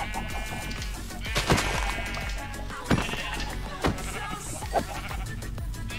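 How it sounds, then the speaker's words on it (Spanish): Sheep bleat in a video game, a few short calls rising at intervals over a busy game soundtrack, fairly close and moderately loud. "Hay hartísimas ovejas por acá, chicos."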